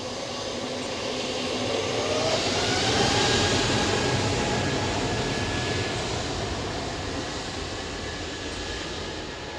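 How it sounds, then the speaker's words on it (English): Airliner jet engine, a GE LEAP, roaring steadily at an airport, a broad continuous rumble and hiss that swells slightly mid-way then holds. "See, the GE power plant is far more gutsy."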